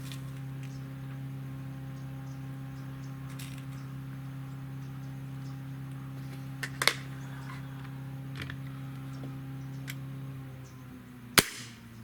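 A Beeman 2015S double barrel air rifle fires a single sharp shot, crisp and fairly close, over a steady low electrical hum, with a second click-like crack near the end.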